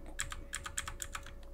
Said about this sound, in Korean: 키보드에 C키를 눌러서 셀렉션을 합니다